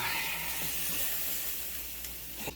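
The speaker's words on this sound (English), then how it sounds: "And then we're just going to dump the whole can in there." Canned chipotle sausage mixture hitting a hot pan, a steady loud sizzle and hiss of frying that slowly eases, with a faint clink near the end.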